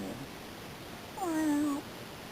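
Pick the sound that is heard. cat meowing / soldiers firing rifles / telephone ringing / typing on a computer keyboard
cat meowing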